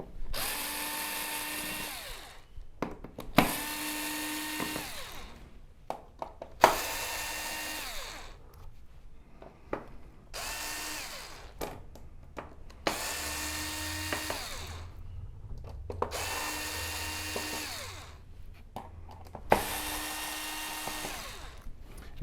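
A power screwdriver whirs in about seven separate bursts as it backs screws out of the main board of an LG OLED65A1PUA television. Each run lasts a second or two, with short quiet gaps between them.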